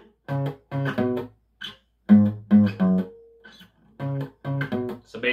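Electric guitar playing the main riff of a song: short, punchy chord stabs in rhythmic groups separated by brief gaps, one note held briefly, close and clean with no talking.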